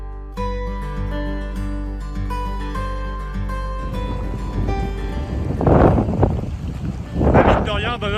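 Strong wind gusts roar across the microphone outdoors in the Ariège mountains, building into two loud, broad bursts in the second half after a stretch of music at the start.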